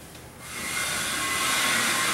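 A steam bypass valve opens aboard the SS John W. Brown steamship during a dock trial, releasing a broad, steady hiss that swells after a quiet start and holds loud and close to the end.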